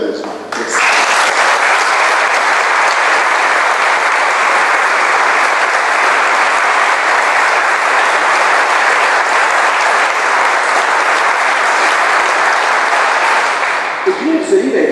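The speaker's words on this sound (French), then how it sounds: "J'aimerais que nous leur réservions une salle d'applaudissements méritée pour les féliciter et les remercier chaleureusement" Audience at a book launch applauding, a dense, loud, even wash of clapping that starts abruptly and holds steady for a long stretch before easing off near the end.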